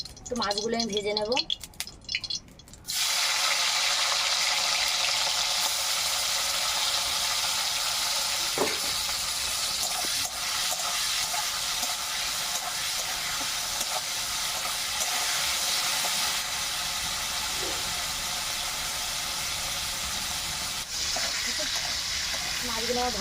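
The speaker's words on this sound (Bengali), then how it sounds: "তো মাছগুলো আমি ভেজে নেব।" Shrimp frying in oil in a kadai for a pumpkin-leaf and eggplant ghonto, a loud steady sizzle and hiss that starts after a brief bit of handling noise and runs continuously to the end.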